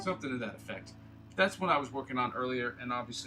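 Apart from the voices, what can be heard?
No everyday noise stands out behind the speech.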